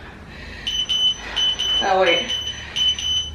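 A workout timer beeps in repeated short high-pitched bursts during a Tabata and strength training session, while a person speaks briefly over it.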